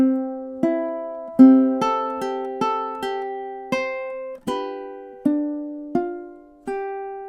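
Ukulele picking single plucked notes of a song melody in steady beginner tempo, each note ringing out and decaying cleanly, about a dozen notes with no voice.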